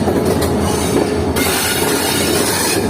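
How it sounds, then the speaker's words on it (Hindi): A passenger train pulls into platform 3 at Hyderabad Junction, with a loud, continuous rumble of wheels on rails and railcar clatter up close. A high squeal cuts in partway through, and no one speaks. "प्लेटफॉर्म नंबर 3 पर पहुंच रही है हमारी ट्रेन इस वक्त हैदराबाद जंक्शन रेलवे।"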